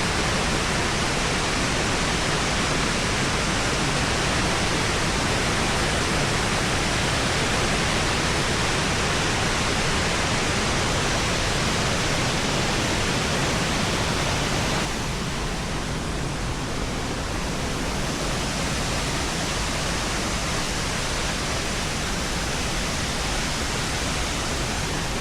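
Waterfall at Falls Park on the Big Sioux River in Sioux Falls, South Dakota, a loud, steady broadband roar of falling water heard close up, unbroken throughout with no voices.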